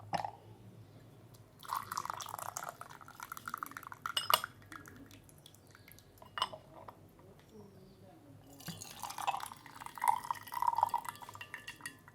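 Water poured and rinsed over tea leaves in a small teaware setup, with bursts of splashing and dripping plus clinks of porcelain, intermittent and close, and a voice speaking between.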